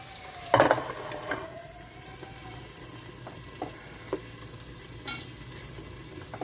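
Vegetables frying with onion and green chilli in oil for a brinjal and okra pulusu: a low sizzle broken by a sharp clatter early on and scattered spatula taps against the pan.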